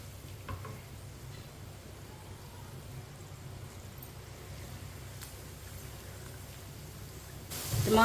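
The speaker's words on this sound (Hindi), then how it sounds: "टमाटर को भी 2 मिनट के लिए पका लेंगे।" Chopped tomato frying in a pan for moong dal, giving a steady low sizzle with light stirring that runs evenly throughout, rising briefly louder at the very end.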